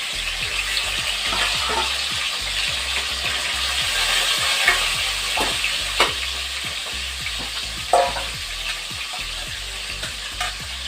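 Small rohu fish fry in a pan with a loud, continuous crackling sizzle and dense popping, broken by occasional sharper spits and clatters as the fish is turned. No one speaks.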